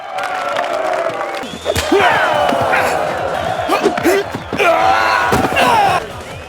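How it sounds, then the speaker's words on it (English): A film crowd and guards cheering and shouting at a fight, loud and close, with whoops and sharp slams and thuds of blows cutting through the roar. "the crowd and the guards vocally back Andre, expecting an easy victory"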